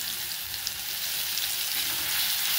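Garlic, green chili and cumin paste sizzles steadily in a hot pan with turmeric and asafoetida, a close, continuous frying hiss with faint stirring and no voices.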